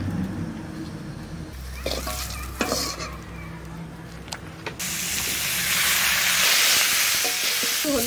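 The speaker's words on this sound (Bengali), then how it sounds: "আলুগুলো ভাজা হয়েছে খিচুড়ির মতোই দেবো" Potatoes fry and get stirred in a pan for vegetable khichuri, with scraping and clinking of a utensil at first, then a loud, steady sizzle and hiss swelling up close.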